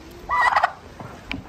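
A turkey gobbles in one loud, warbling burst near the mic, followed by a softer short call a moment later, with no talking.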